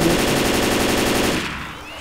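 Rapid automatic gunfire in Left 4 Dead rattles close and loud in a fast, regular stream, then cuts off shortly before the end.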